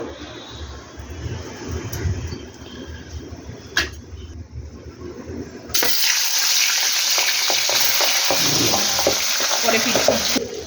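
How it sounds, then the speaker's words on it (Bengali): Pabda fish drop into hot oil in a kadai, and a loud, dense sizzle erupts partway through and holds steady, following quieter kitchen rustling and clinks. "এবার আমি মাছগুলো ভেজে নেব।"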